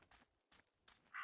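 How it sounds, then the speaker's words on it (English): A raven in the video game Martha Is Dead caws in a few short, faint, harsh calls spaced across a quiet stretch, with a louder bright burst at the end. "That raven is making a big fuss."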